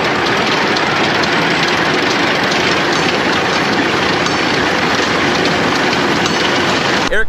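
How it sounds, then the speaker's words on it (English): A round baler with Wes Black baler belts runs in a rural Minnesota field, its machinery producing a steady, loud, broadband mechanical rumble and whir that holds constant throughout with no talk. "All you hear are the belts on that round baler."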